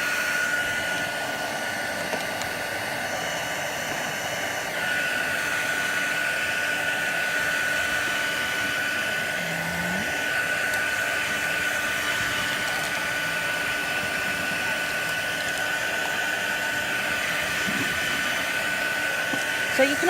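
A hair dryer blows steadily on inked cardstock in a stamping demo for a Northern Lights effect, a continuous close, even whir running for the whole stretch with no talk over it.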